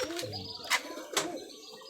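Close pigeon coos from a newly bought pair of Geribaj tumbler pigeons in Rajshahi, low soft calls repeating through the short stretch with a couple of brighter chirps or wing flicks, no talking.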